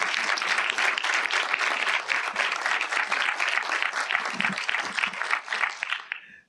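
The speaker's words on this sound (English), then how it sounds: "let's give a round of applause to Ava Berkofsky for joining us today." An audience applauds to welcome a guest speaker at a cinematography event, dense sustained clapping from many hands that fades out at the end.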